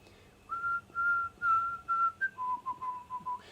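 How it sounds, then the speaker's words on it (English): A person whistles a short tune solo, a series of clear sustained notes followed by a quicker run of lower, shorter notes, fairly soft and close. "I've compromised and I've whistled a bit of it."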